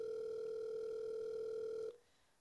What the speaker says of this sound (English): The phone rings for a good minute before someone answers.